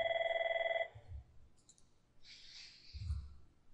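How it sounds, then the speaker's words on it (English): An office telephone rings with a steady electronic trill that cuts off after under a second, followed by a few soft clicks and handling noises as the phone call is answered. "sorry about that phone call"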